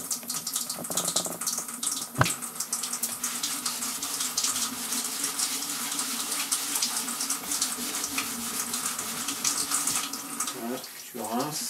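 Water runs steadily from a tap, rinsing a car sun visor from a 2004 Toyota Avensis, a continuous close splashing rush with a brief knock partway through.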